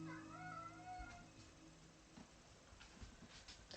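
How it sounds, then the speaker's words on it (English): A kitten meows in a long, drawn-out wavering call near the start, fairly close and clear, followed by faint soft rustling in a quiet room. "Kitten."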